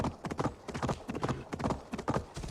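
A horse's hooves walk in a steady clip-clop rhythm through a Viking video game, each paired step close and distinct over a faint background, with no talk.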